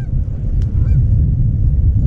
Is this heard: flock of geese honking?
yes